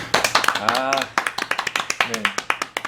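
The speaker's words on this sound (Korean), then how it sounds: "박수!" Quick, evenly spaced hand claps mark the start of a recorded broadcast reviewing basketball calf protectors, crisp and close, mixed with lively voices talking over them.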